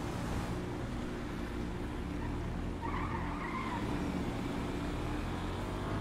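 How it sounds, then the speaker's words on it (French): A small car makes a fast reverse start, its engine droning steadily while the tires skid and squeal briefly partway through, heard at moderate distance with no talking. "Faire un départ en marche arrière"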